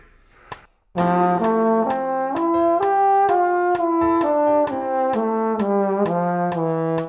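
A clear instrumental scale steps downward in even, evenly spaced notes, played cleanly and alone after a brief click.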